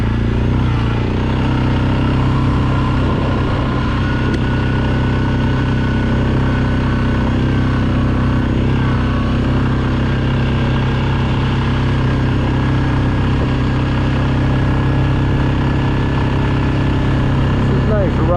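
An ATV riding along a rough ORV trail near Luzerne, its engine droning loud and constant close to the listener, with someone talking over the steady motor noise.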